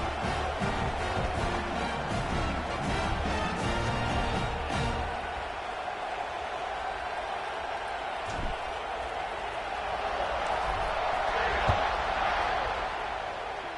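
Simulated stadium crowd in a College Football 26 game of Alabama Crimson Tide at Auburn Tigers, a broad continuous roar and buzz that swells slightly toward the end, with a commentator's voice over it.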